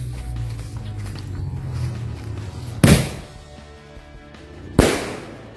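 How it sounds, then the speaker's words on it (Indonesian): Two sharp, loud bangs from Arjuna and Super Beats flying firecrackers, one near three seconds and another near five, each a sudden crack over a low steady background hiss. "kita nyalakan mercon yang bisa terbang"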